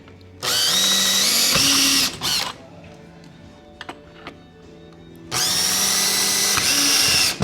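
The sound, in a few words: power drill drilling holes in window frame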